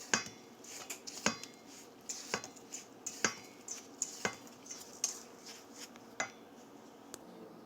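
Metal utensil clinks and scrapes against a pan while butter, a tablespoon of sugar and breadcrumbs are stirred together for a banana pudding cheesecake crust: sharp, fairly regular knocks about once a second, close and moderately loud, with no talking.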